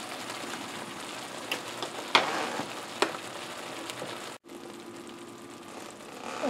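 Ham steak simmers in salsa verde in a cast iron pan, giving a soft, steady bubbling hiss like light rain, with a few faint clicks and a brief dropout midway.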